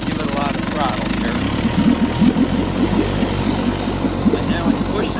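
A 70-year-old outboard motor runs steadily under heavy throttle, a continuous mid-pitched engine drone with rhythmic pulsing, close and fairly loud, while a person talks over it.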